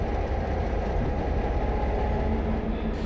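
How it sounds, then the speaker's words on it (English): General Motors G22CU metre-gauge diesel-electric locomotive on a Buenos Aires commuter line, a steady, loud low engine rumble and rail noise holding without break, nearby and unaccompanied. "G22CU, a meter gauge diesel electric built by General Motors"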